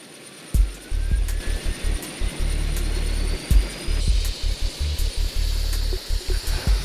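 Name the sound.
helicopter flying over Seoul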